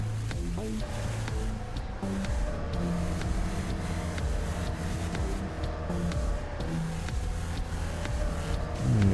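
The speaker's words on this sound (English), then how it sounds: "we're in a car that's already like ready to explode on me." A damaged video-game car close to exploding drones along with a steady, continuous engine hum and faint rattling clicks, heard throughout with no pauses.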